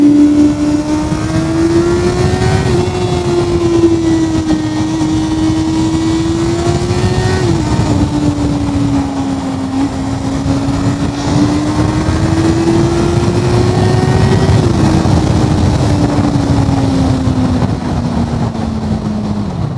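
A 2023 Honda CBR650R sport motorcycle engine revs loud and close, its pitch climbing and dropping in repeated swells over a sustained roar, its note changing above about 10,000 rpm.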